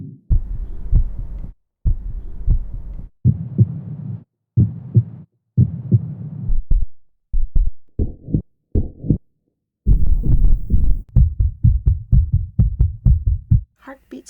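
Designed heartbeat sounds from the 8Dio Hybrid Voices library pulse in muffled, deep bursts. They play in rhythmic groups with brief gaps between them, so the effect sounds like a heartbeat heard underwater.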